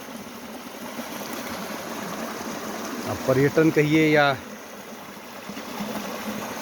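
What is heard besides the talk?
small mountain river (gad) flowing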